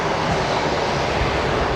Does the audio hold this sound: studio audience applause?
no